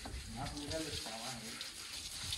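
Water splashing and running over motorcycle tyres during washing, a brief close gush that continues under a nearby voice.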